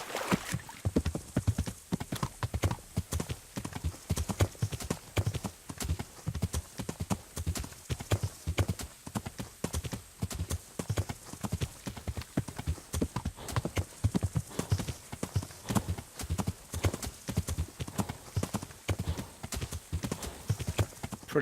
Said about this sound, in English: Let's get our gallop on, people.